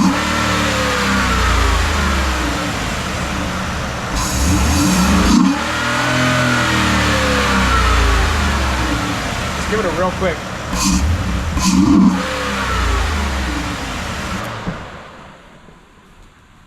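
A Ford F-150 Raptor 6.2L V8 with a Roush cold air intake revs repeatedly from idle, several loud rising and falling throttle blips close by, with brief talk at the start.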